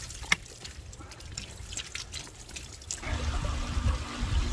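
Water moves through pool plumbing during winterizing, starting as faint trickles and clicks, then swelling into a steadier rushing gurgle for the last second and a half.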